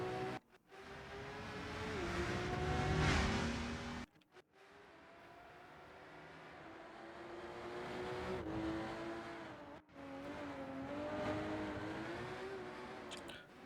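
GT3 and BMW M2 CS racing cars lapping the Orchard Road street circuit in the RENNSPORT racing game, engines droning and revving steadily at close range with shifting pitch and brief drops between gears, no talk.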